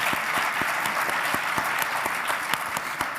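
A breakfast panel audience applauding, steady dense clapping from many people at moderate distance, with a few sharper individual claps standing out, continuous for about three seconds with no talking.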